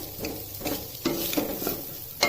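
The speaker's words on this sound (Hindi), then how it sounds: "हल्दी को भूनना बहुत जरूरी है, अच्छी तरीके से भूनना" Raw turmeric roasting in a pan, stirred so it scrapes and sizzles in a few uneven strokes, close and moderately loud.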